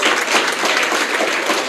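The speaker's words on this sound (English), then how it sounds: "Can we give a round of applause to ladies?" Dense audience applause at an end-of-year staff retreat and award ceremony, loud and close, a continuous roar of many hands clapping with no talk over it.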